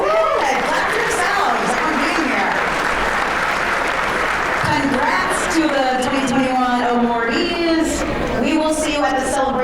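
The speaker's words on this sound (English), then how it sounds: "Clap for yourselves for being here." Sustained audience applause fills a banquet hall at an annual dinner and awards event. The clapping is loud and steady, with crowd chatter and voices mixed in and rising toward the end.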